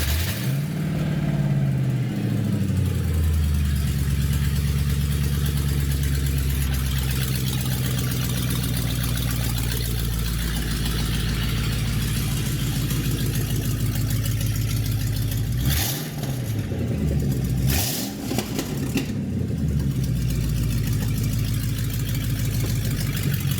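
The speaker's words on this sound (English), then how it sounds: "Let's make a quick sound check on a stock open header." A Mercedes AMG engine running on stock open headers with no exhaust behind them, holding a loud, raw, steady idle that fills the whole stretch, with a couple of short blips of throttle toward the end.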